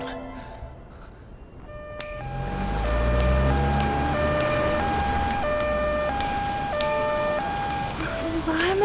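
An ambulance siren arrives, its wailing two-tone pattern starting abruptly and growing loud and close, repeating steadily over a low engine rumble.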